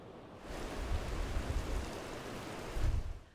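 Swollen, fast-flowing Truckee River in Reno during high water, a dense continuous rushing roar with a couple of louder surges.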